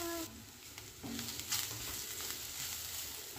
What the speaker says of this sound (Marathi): हे मसाले आपण व्यवस्थित असे परतून घेऊयात।